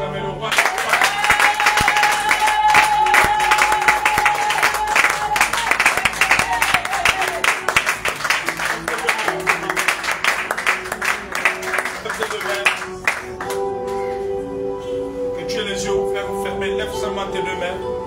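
A church congregation claps and cheers loudly to acclaim the king, sustained applause with a prominent voice and music over it, fading into quieter singing and talk toward the end.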